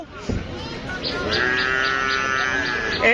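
Cattle at a busy open-air livestock market, with one loud, drawn-out moo rising over crowd chatter and a brief thud near the start.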